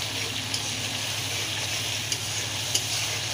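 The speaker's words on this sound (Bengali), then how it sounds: "তারপরে সুন্দর করে ভেজে নিতে হবে মাখো মাখো করে।" Fish coated in turmeric, chili powder and salt fries in a pan with a steady, close hiss, marked by a few brief spits and crackles over the continuous sizzle.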